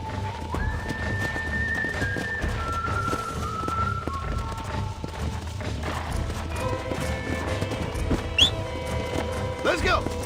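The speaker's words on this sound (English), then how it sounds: "You get back on your own horse." Horse hooves clip-clop and a whinny rings out in the Red Dead Redemption video game, steady rhythmic hoofbeats running under ongoing talk and game music.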